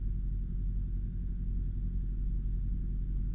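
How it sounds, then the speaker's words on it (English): Diesel engines of two parked semi-trucks idle nearby in a hotel parking lot, a steady low rumble that hums on continuously without change. "There are two delivery trucks, semi-trucks, just parked near me, and I can hear their diesel engines running."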